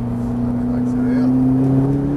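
A Ferrari 458 engine holds a loud, steady drone that builds slightly as it accelerates, heard close from inside the car with a voice speaking over it.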